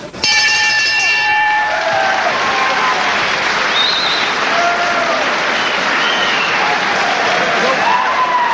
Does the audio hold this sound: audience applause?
yes